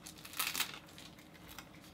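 Plastic wrapping on a convenience-store natto pack being opened and rolled, a quiet, brief crinkle peaking early and then trailing off into soft rustling.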